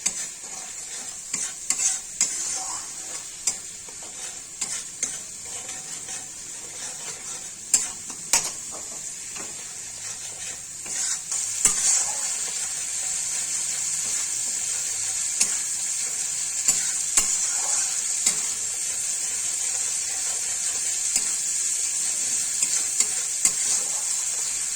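Turmeric and salt frying in oil in a pan for a banana-flower curry with potato and soya chunks, a steady close sizzle with scraping stir strokes throughout.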